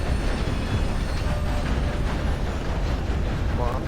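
Train running in the video game Red Dead Redemption 2 Online, a continuous loud rumble and rattle of rolling wagons with no pauses and faint squeals near the end.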